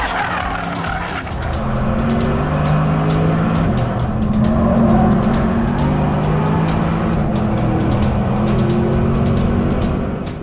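A Porsche Panamera is driven hard on the Nürburgring Nordschleife, its engine roaring loud and continuous with tire noise across the whole stretch, no talk.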